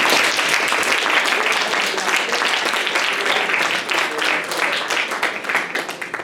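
Audience applause for debaters after a political debate, dense clapping from a room of people, loud and sustained throughout with some scattered voices underneath.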